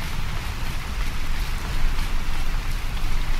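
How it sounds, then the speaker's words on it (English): Dense, steady video game rain in Skyrim Special Edition pattering heavily on surfaces, a constant wash of noise with no voices. "Oh, it's raining."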